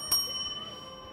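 A single bright chime rings out once and decays with a lingering tone, in the style of an airport announcement bell, quiet and alone.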